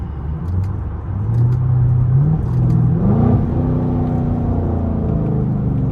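A Camaro SS V8 engine drones steadily from inside the car on a late-night drive. It rises in pitch as the car accelerates through the gears, with a continuous low rumble throughout.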